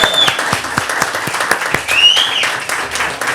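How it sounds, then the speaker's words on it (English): A studio audience applauds after a guest's thanks at the close of an interview, steady dense clapping throughout with a couple of whistles cutting through the middle. "They're clapping for you, champ."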